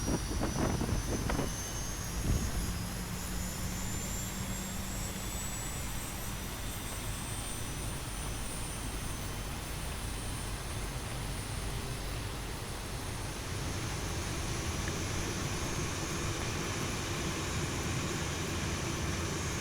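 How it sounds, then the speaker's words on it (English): Sustained jet engine whine and roar as a Boeing 737-800 engine spools up during start in the X-Plane 11 flight simulator, with a rising high tone over a steady broadband rush; no talking. "engine start for number 1 has now come over, so we'll go for engine number 2"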